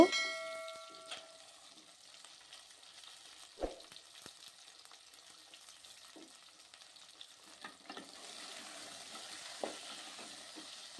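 Jujubes and tamarind stirring in a pan for a pickle, a faint, soft sizzle with occasional spoon knocks and a light metallic clang, heard close but quiet throughout.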